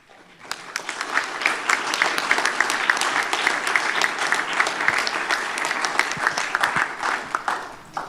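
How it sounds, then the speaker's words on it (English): A commission meeting audience gives sustained applause for a recognition of honor, dense hand clapping swelling quickly and holding steady for several seconds before tapering slightly at the end. "This is an appropriate time to give him a big round of applause."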